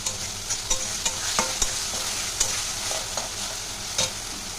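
Chicken pieces fry with onion and garlic in a steady loud sizzle, with regular clinks and scrapes of a spoon stirring the pan and no speech.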